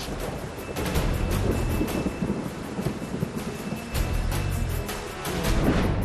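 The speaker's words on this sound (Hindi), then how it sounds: "जब आती है बारिश" Heavy rain and rolling thunder during monsoon floods sweeping Bihar and Assam, a continuous loud roar of downpour with deep rumbles and some wind buffeting, no voices.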